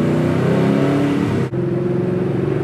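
Ford Falcon XA GT RPO 83 engine revving from inside the car, a loud steady mid-range roar that dips briefly at a gear change then pulls again, close and continuous.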